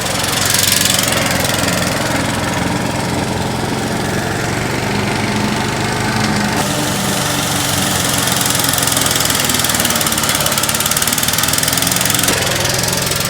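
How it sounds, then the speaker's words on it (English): An old, used lawn mower runs loud and close through super thick grass, its engine droning continuously with slight bogging and shifts in load throughout. "And our grass is super thick, so it kind of bogs out our mower, because the mower is used, it's old."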